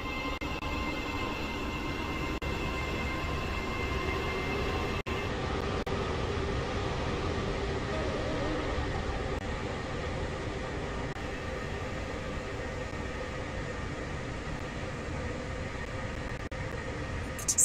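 Steady low rumble of a train idling at a station platform in Leighton City, with a constant broadband hum and faint tonal whine holding evenly throughout, no voices.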